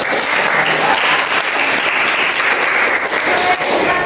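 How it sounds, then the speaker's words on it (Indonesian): A classroom of students applauding, a dense steady burst of clapping that fills the room for a few seconds at close range. "Oke, bisa jadi beri aplaus."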